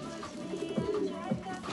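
Soft, low coos from a racing pigeon, two distinct calls close by over a faint background with a quiet voice.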